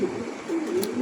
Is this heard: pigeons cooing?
yes